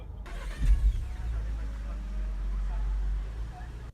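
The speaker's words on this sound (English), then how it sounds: "Volkswagen Golf GTI." Engine of a 2018 Volkswagen Golf GTI on a road test drive: a low, steady rumble with a brief rise early on, heard from inside the car, with some voice over it.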